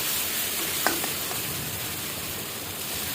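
Spice paste fries in oil in a pan, a steady dense sizzle holding throughout with a brief stir clink near the start.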